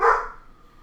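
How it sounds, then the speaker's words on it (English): A rescue lab mix gives a single short, sharp bark nearby, fading fast into near quiet. "ignore the dog. We're having a little trouble with the dog."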